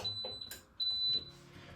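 A Crockpot Express pressure cooker gives two high electronic beeps, a short one and then a longer tone, close up over faint kitchen noise as it is set to manual mode and started.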